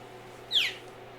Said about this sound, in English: That sounds more like a bird call than a deer call.